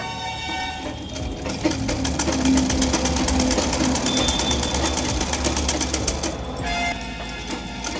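A sewing machine stitches a hook strip onto a cross-cut blouse, its needle whirring and clattering steadily the whole time, a little louder through the middle stretch.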